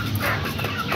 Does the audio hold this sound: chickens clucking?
yes